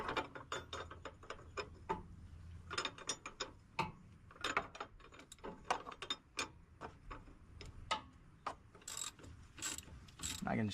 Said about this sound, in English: I can just use my ratchet to ratchet the shaft itself.